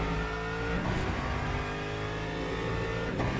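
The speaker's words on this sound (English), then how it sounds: "The Porsche does sound like a hairdryer." A Porsche GT3 engine in Le Mans Ultimate, heard from inside the car, drones loudly and steadily with a buzzy, hairdryer-like whine, the pitch shifting slightly around a couple of gear changes.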